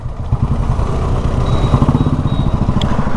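A KTM Adventure 250 motorcycle engine pulls steadily at speed with a dense low, rhythmic thrum, rising slightly in intensity partway through, with faint high whine and no talk over it.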